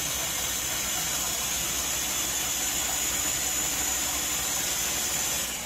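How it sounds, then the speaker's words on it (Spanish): A loud, steady whirring drone of a blender running continuously on a pumpkin flan mixture, with a high motor whine and no talking. "vamos a pasar aquí por la batidora"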